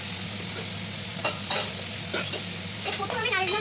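Spices with cumin powder sizzle in a hot pan under steady stirring, a close continuous frying hiss broken by several scraping strokes of the spoon, with no voices.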